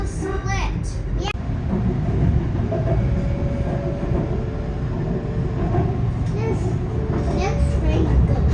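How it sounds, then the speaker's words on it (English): A train in Singapore runs on its rails with a steady low rumble and rattle throughout, while people talk over it. "This train is good."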